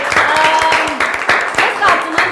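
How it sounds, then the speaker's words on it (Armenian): A live studio audience at a football talk show claps in a dense burst with sharp, uneven peaks. Voices murmur underneath the applause. "Ծափարություններ։"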